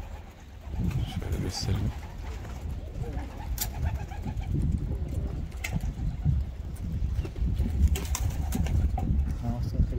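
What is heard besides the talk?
young racing pigeons cooing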